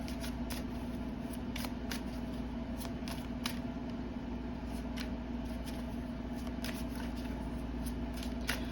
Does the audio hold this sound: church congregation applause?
no